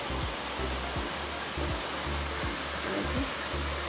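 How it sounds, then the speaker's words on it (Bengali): Rain beginning to fall outdoors, a soft steady hiss of drops with faint low rhythmic thumps underneath, fairly quiet and continuous without speech. "বৃষ্টি শুরু হয়ে গেল।"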